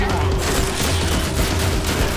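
Loud, dense gunfire from Left 4 Dead 2, a continuous barrage of overlapping shots filling the whole stretch.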